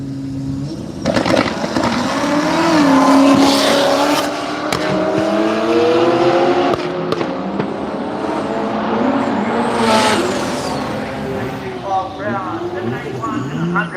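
Drag racing cars at Willowbank Raceway in Australia roar through loud, sustained engine runs with rising and falling revs, while a commentator talks continuously over the racing.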